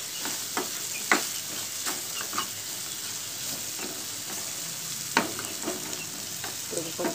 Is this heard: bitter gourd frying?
yes